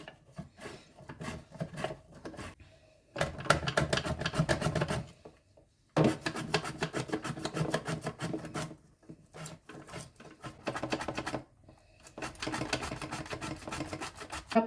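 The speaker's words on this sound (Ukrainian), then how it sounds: "І я їх ріжу на такі, подрібнюю на такій терці пластинками." Oven-baked beets are grated into thin slices on a kitchen grater, giving rhythmic rasping scrapes in several separate bursts with short quiet pauses between, close and fairly soft.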